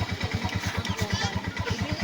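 A TMX motorcycle engine fitted with a LiFePO4 battery idles steadily nearby, its low, even putter pulsing rapidly throughout.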